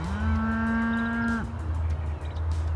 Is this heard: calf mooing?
yes